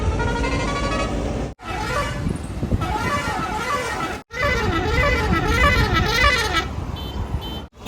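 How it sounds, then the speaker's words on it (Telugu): Vehicles passing the Bullet Baba temple on a highway sound a series of loud horn blasts, several long and wavering tooting horns in succession, with engine noise between them and brief gaps. "ప్రతి వెహికల్ వచ్చేటివన్నీ హారన్ కొట్టి వెళ్తాయి"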